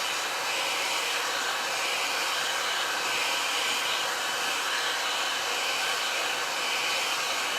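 A Le Volume 60 mm 2-in-1 volumizing brush dryer runs on medium heat with the airflow at its highest setting, giving a close, steady, unbroken rushing whoosh of air on short curly hair, with no voices.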